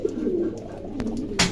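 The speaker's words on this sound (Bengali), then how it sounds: "দুই জোড়া কবুতর আছে" Two pairs of pet pigeons, a long-face almond pair and a mukhi pair, coo softly and repeatedly at close range, with a brief rustle of wings or movement near the end and no talking.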